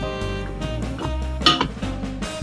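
A spoon scrapes and clinks against a bowl while potato croquette mixture is stirred, giving irregular metallic taps and a brief louder clatter, close and clear.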